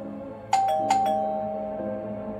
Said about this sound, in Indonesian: tiba-tiba bel rumah berbunyi yang membuat Jihan dan Jeongmin langsung panik